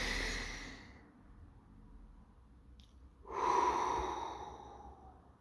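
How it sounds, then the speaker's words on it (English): A person draws a slow, audible breath in through the nose, close and soft, following an earlier exhale and a quiet pause. "you're breathing in"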